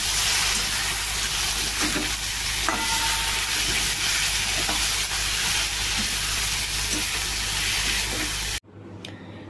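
Water spinach frying with fish roe in a pan gives a loud, steady broadband sizzle with occasional stirring scrapes, running unbroken for most of the stretch before cutting off abruptly near the end.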